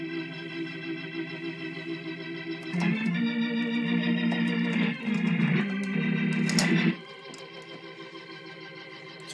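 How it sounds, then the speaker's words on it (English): Hammond B3 organ emulation played from a Korg nanoKONTROL, with the Leslie speaker effect switched on, giving a steady sustained chord that swells louder midway through and then drops back, heard alone without talk. "And then go ahead and turn the Leslie on."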